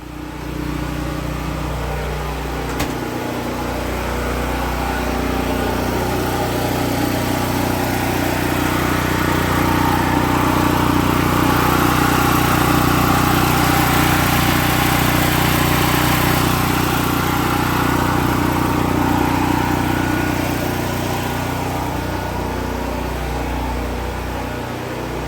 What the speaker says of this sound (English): Then we need to turn off the generator.